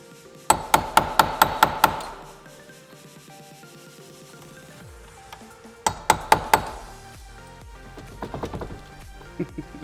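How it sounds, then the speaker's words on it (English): A punch is hammered to free a corroded key stuck in a boat, giving two rapid bursts of sharp metallic strikes, about six blows each, close and loud with ringing tails and quiet gaps between. "found a punch. We're gonna try that instead of a screwdriver."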